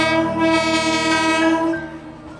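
A train horn blares loudly and steadily for about two seconds, a rich sustained chord that fades slightly toward the end, with rail rumble underneath.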